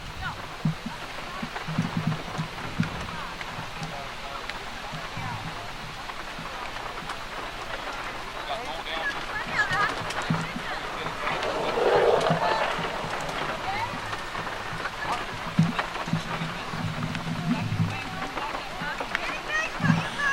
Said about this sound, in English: Rain is really coming down at the moment.